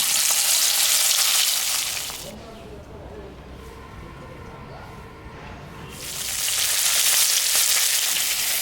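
A fish head sizzles and fries in hot mustard oil in a wok, a loud steady crackle that dips quieter midway with faint stirring, then swells back to full sizzle.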